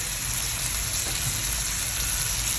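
Sambal chili paste sizzling steadily in a hot pan with fried prawns, a constant close hiss of frying and nothing else.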